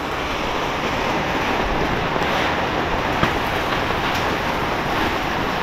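Heavy afternoon rain pours steadily outside a simple house with only a ventilation opening, forming a dense, loud, unbroken wash of noise with no pauses and no talking.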